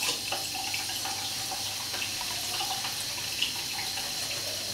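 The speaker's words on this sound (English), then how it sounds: "you add a tiny bit of water, shake it off, back and forth" Tap water runs steadily to wet a shaving brush while lather is being built, a soft continuous splash with faint drips, close and quiet, with no voices.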